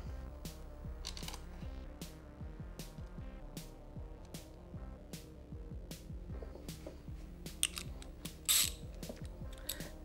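Brake rotor bolts being hand-tightened on a BMW S1000RR motorcycle front wheel: repeated rapid ratcheting clicks in bursts, close and fairly loud, with a few metallic clinks near the end and no speech.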